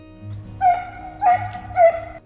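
Three short dog barks or yips at steady intervals, fairly close and clear, with a low hum underneath.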